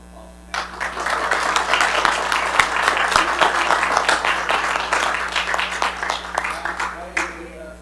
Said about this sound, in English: we can do a round of applause now